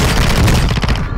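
Heavy automatic gunfire in a Call of Duty: Modern Warfare II match fills the moment, a loud, dense fusillade of rapid overlapping shots with booming low end, close and continuous with no talk.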